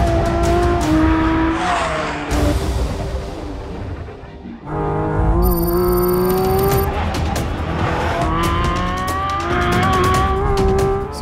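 2022 Porsche 718 Cayman GT4 RS racing at the Nürburgring Nordschleife: a loud, high-revving engine rises and falls through gear changes as the car passes, with brief tire squeal and a second car pass, no talk.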